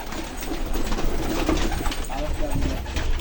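Pigeons coo in a loft among many birds, a low soft cooing heard under near continuous talk and a busy ambient background.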